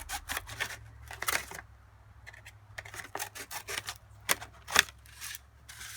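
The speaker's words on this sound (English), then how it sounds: "I took the edge, cut it around." Scissors snip through craft edging for a paper dinosaur's tail, making a series of close, quiet crisp cuts and rustles in short irregular bursts.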